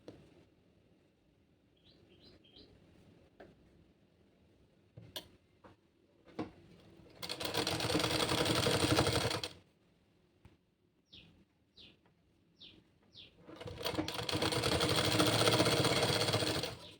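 A sewing machine top-stitches a blouse sleeve in two loud, rapid, steady runs of a few seconds each, separated by quieter clicks, taps and light handling sounds.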